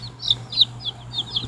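Pet chickens make soft, repeated chirping clucks in a steady series of short calls over a low background hum, with no talk.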